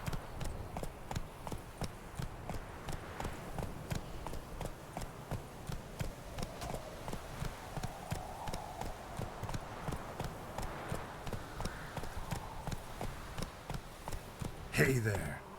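Horse hooves clip-clopping in the video game The Witcher 3, a steady close rhythmic trotting of hoofbeats throughout, with voices talking over them.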